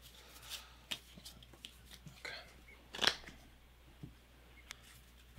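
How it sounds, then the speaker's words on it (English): Terraforming Mars board game cards being shuffled by hand, soft papery riffles and clicks in scattered bursts, quiet and close in a still room. "Okay, so let's shuffle these up."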